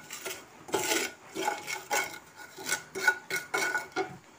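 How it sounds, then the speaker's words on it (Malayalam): Masala for a quail egg roast being stirred in a pan, giving soft, close scraping strokes in an uneven rhythm at moderate volume, with no voices. "നല്ലപോലെ ഇളക്കി കൊടുക്കുക."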